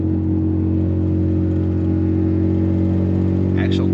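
A turbocharged Infiniti Q50 drives through city streets, its loud engine holding a steady, droning rumble throughout with no clear revving rise, close and continuous.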